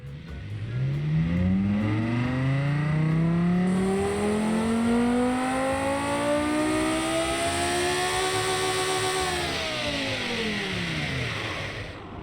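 A V10 car engine in the video game Automation revs up steadily, its pitch climbing and holding high for several seconds before dropping away. The tone is loud and continuous.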